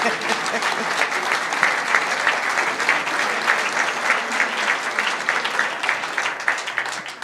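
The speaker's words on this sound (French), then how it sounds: "un applaudissement spécial à Françoise Brun" An audience at the Violeta Negra 2012 prize ceremony breaks into sustained applause, a dense, even rattle of many hands filling the room without pause for several seconds.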